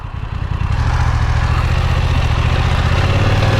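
A BMW F900XR parallel-twin motorcycle engine runs steadily and loudly up close, a low throbbing idle that holds its rumble throughout with a slight rise near the end.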